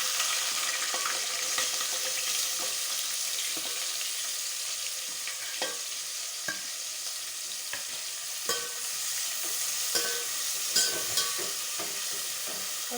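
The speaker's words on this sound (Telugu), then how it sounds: "కొంచెం కలర్ చేంజ్ అయ్యేంత వరకు వేయించుకోవాలి." Onions fry in hot oil with whole garam masala of shahi jeera, cloves, cinnamon and bay leaf, a steady close sizzle broken by occasional stirring scrapes and taps, with no talking.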